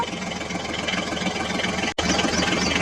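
Diesel tractor engine running steadily, a dense continuous drone at close range with one brief dropout near the end.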